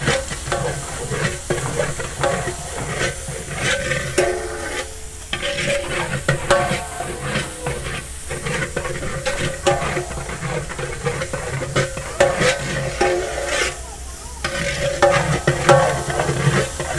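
Garlic sizzles and fries loudly in a large pot of biryani as it is stirred, with a continuous hiss broken by scraping and clattering stirring strokes, and no voices.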